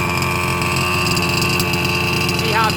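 A 5th-scale RC vehicle's small gas engine runs on its own without throttle, a loud, steady, buzzing drone recorded close by with a slight rise in pitch near the end, no voices.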